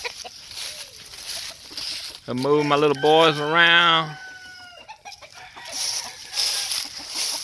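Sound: brood roosters clucking

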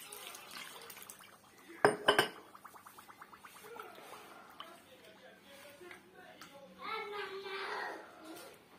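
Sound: mixing semolina with water in a pot

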